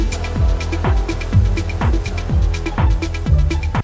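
A music track plays with a sample layered on top in a clashing key, giving repeated plucked or percussive hits in a steady rhythm over sustained low tones, loud and alone with no voices.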